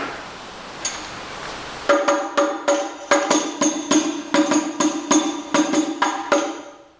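Hadroh frame drum played in the pukulan naikkan pattern, close and loud, with a quick driving rhythm of bright ringing slaps and deeper strokes after a single opening hit.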